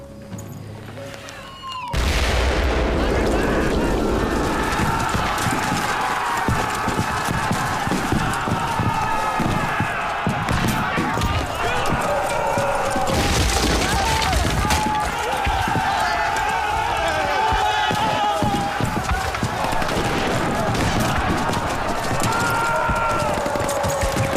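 World War I artillery cannonade pounds a battlefield, a sudden loud onset after a quiet start, then a dense continuous roar of booms and rumbling explosions with a renewed heavy burst midway.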